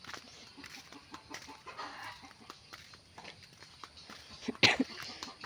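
Chickens cluck softly in scattered bursts nearby on a misty rural morning, with rustling and light ambient noise, and one louder squawk toward the end.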